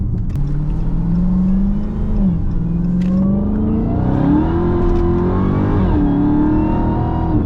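A 2021 Dodge Charger Hellcat Redeye accelerates hard, its loud engine roar rising and shifting in pitch through several surges, heard from inside with no talking.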